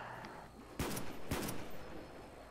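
Two sharp, loud bursts of gunfire, close and punchy, in a Black Ops zombies match on the Der Riese map, round 28, set against a low game-noise bed with no talking.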